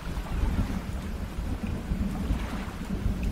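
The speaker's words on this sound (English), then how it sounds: "It's a little rainy today." Rain and thunder in the Dredge fishing video game, a constant wash of rainfall over a deep rolling rumble, steady and moderately loud with no voices.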